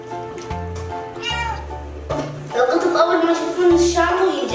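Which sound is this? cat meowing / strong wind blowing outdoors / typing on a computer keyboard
cat meowing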